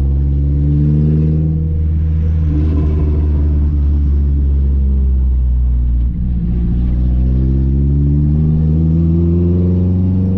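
A Renault Clio 1.6 16V engine idles steadily while parked at low revs, a deep continuous rumble with a faint rise in pitch that stays loud and close for the whole stretch, with no talking.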